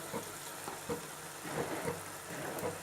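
Chopped tomatoes are tipped onto chicken frying in a pan for Arabian chicken mandi, giving a steady close sizzle with soft irregular clatter and stirring bumps and no talk.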